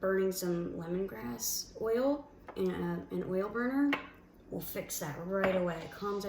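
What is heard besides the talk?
None of the usual background noises is heard.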